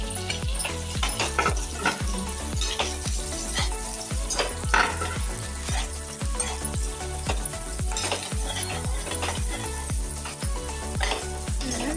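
Finely chopped onions sizzle and fry in a pan for toor dal with amaranth greens, a steady bright crackle with repeated stirring scrapes throughout, close and continuous, no voices.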